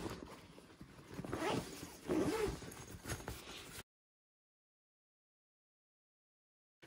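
Short bursts of zipper rasping on a travel compression bag, close up, with some rustling of fabric, then silence for the last few seconds.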